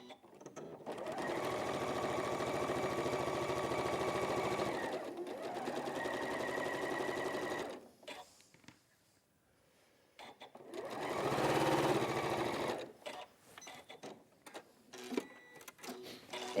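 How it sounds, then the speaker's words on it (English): A sewing machine top stitches just under a quarter inch from a fabric edge, whirring in two long steady runs with a pause between, followed by lighter clicks and handling noises. "I'm just going to do a top stitch just under 1/4 inch away from the edge."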